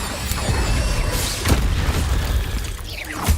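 Incendio fire spell cast in Hogwarts Legacy, heard as several sharp whooshing bursts and crashing impacts spread over a few seconds, loud and close over a busy game soundscape.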